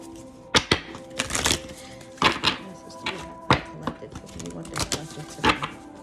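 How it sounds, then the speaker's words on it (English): Playing cards being shuffled in several quick riffle bursts with thumps between, up close; a person speaks over some of the shuffling. "Two more shuffles, y'all."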